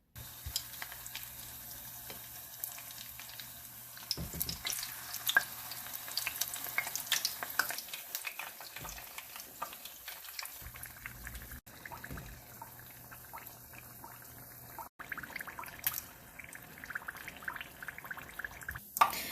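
Banana turon frying in caramelized sugar in a pan, a steady crackling sizzle running throughout with occasional stirring scrapes and a low hum in the background.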